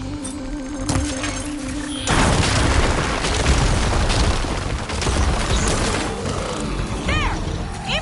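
Volatile glowing crystals detonate in Horizon Forbidden West, a loud booming blast with crackling, shattering debris that rumbles on for several seconds after a quieter mechanical lead-in.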